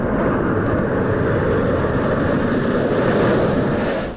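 A Sukhoi fighter jet and a C-17 Globemaster transport operate at the Ladakh airbase, producing a loud, unbroken jet roar that holds steady for the whole stretch before easing slightly at the end.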